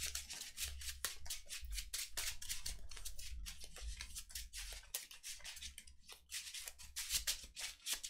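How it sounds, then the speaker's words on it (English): Magic: The Gathering deck of about 60 cards being shuffled, a run of quick crisp riffling and rubbing bursts repeating close up at low volume. "Yeah, shuffling our deck."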